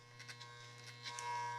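Electric hair clippers buzz steadily during a boy's clipper-over-comb haircut on textured hair, a close, constant hum with a few faint snips of cutting as the blade passes through.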